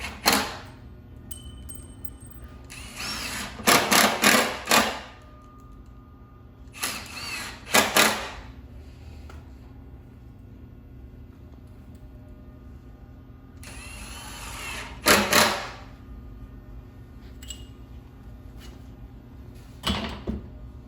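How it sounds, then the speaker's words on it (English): A power drill drives screws into cedar picnic table boards in several separate bursts of whirring buzz, each a second or two long, with quiet gaps and light handling noises between them, up close. "And you can finish off screwing that in, and then you're going to be using 2 screws per board."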